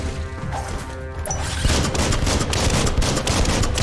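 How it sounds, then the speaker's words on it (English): Rapid bursts of gunfire from the Biomutant video game rattle continuously after a short musical opening, dense and loud with overlapping shots. "Bullets everywhere."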